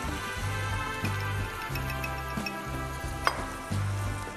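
Sautéed mushrooms sizzle in a pan as fresh cream and milk are added for a creamy chicken pasta sauce, a steady close frying hiss with a few light clinks of a utensil, no voices.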